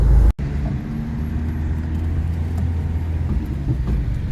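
A Dacia car drives along a road, its engine droning in a low steady hum with road noise heard from inside. A short knock opens the clip, and no one speaks.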